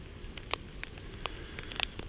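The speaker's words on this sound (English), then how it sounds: "I'm going in because it's raining and it's terrible out here" Rain falling outdoors, heard as a steady wash of patter with scattered sharper drops striking a surface close by.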